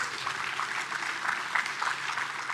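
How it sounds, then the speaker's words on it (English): An audience at a workforce skills conference claps in a steady, moderately loud round of applause that runs throughout. "could we give them a really, really big round of applause?"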